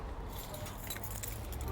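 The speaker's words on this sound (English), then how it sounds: "some more keys for the office." Keys jangle quietly in a pocket, a faint scattered metallic clinking sustained for nearly two seconds against low background rumble.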